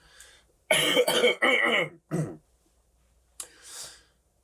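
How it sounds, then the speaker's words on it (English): A person clears their throat loudly several times in rough, gravelly bursts, followed by a short exhale, close and without other sound. "I'm going to clear my throat"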